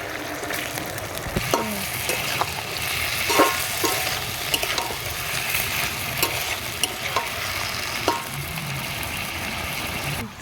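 Fried cauliflower tossed in a pan for chilli gobi, a loud continuous sizzle with scattered clacks of stirring over a low background hum, no voices.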